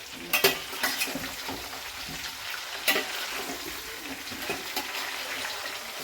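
Ripe mango pieces frying in a pan over a low flame for mango pickle: a soft, even sizzle with occasional louder spatula clatters and scrapes, close by and without talking.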